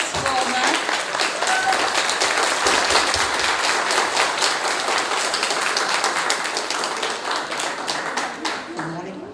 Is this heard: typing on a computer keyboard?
no